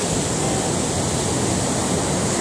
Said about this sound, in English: Yeah, waves. Big waves.